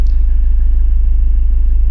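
A 1996 Mercedes-Benz C220 diesel idling after a cold start, a loud steady low rumble with an even diesel clatter, close up and alone without any talk.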